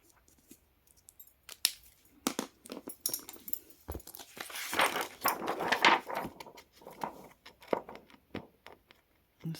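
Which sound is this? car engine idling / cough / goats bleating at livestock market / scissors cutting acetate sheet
scissors cutting acetate sheet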